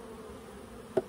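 Honey bees buzzing inside a small nucleus hive box, a soft continuous hum at low level for about a second, with a brief louder knock near the end.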